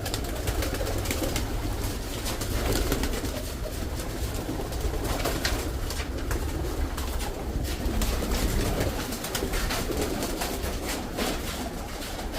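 Pigeons coo amid a dense, noisy background that persists throughout, their low murmuring calls partly buried under steady hiss and rumble.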